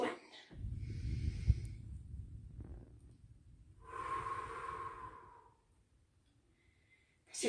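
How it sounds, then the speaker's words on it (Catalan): Slow, deep breaths taken during a children's breathing exercise, a long audible exhale followed by a quieter airy inhale, close and soft with no talking. "Tothom preparat per fer tres respiracions profundes."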